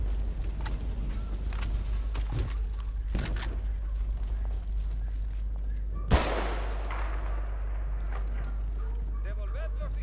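Gunfire in Battlefield Bad Company 2: scattered sharp shots crack out over a constant low rumble, with one loud burst near the end and fainter pops trailing after, while voices talk throughout.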